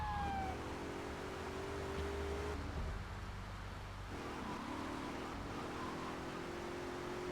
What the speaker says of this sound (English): it's a police car. And you're gonna take it.